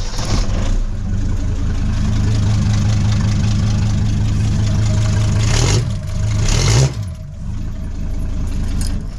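Mercedes Luton van engine idling through a straight-piped exhaust, a loud, deep, lumpy rumble with a steady pulsing beat close by, briefly blipped and settling back to idle.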